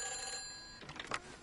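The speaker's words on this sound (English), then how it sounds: "Well, I guess I can answer this phone." A telephone rings in the video game Everybody's Gone to the Rapture, a steady electronic bell tone that stops partway through, followed by faint clicks and handling noise.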